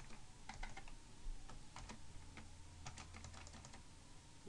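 Rapid irregular keystrokes on a computer keyboard, quiet and close, in short bursts with brief pauses and a faint steady hum underneath.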